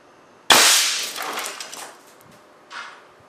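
An air cannon fires an LED slug at a small radio: one loud, sharp bang with a short decaying ring, followed by a fainter second impact about two seconds later.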